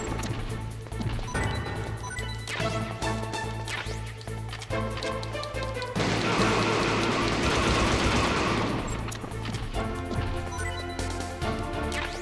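Gunfire in the Metal Gear Solid video game, bursts of sharp shots and crashing impacts over a droning game soundtrack, growing into a loud dense volley midway before easing back, with no talk.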